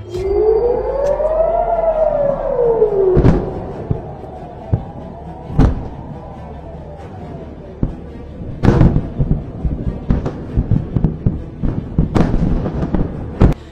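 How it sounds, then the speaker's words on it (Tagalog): Air raid sirens wail across Israel during a Hamas missile attack, one loud rising and falling tone near the start, followed by repeated sharp booms and cracks of air defence interceptions. "umalingaw-ngaw ang mga sirena sa kaulapan ng Israel"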